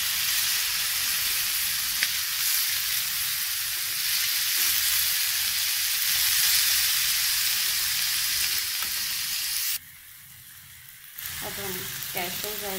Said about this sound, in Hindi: टमाटो स्मूथ होंगे तब तक हम पकने देंगे इसे।